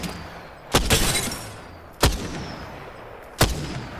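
Gunshots in the shooter game Apex Legends, three loud, sharp blasts spaced about a second and a half apart, each ringing off briefly, with no talking.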